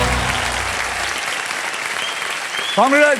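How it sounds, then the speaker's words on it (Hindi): A television game show audience applauds after a contestant solves a puzzle, sustained clapping throughout, with a brief musical sting and a voice near the end. "अब तालियां"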